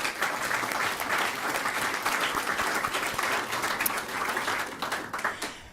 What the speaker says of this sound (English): let's give a round of applause for those distinguished alumni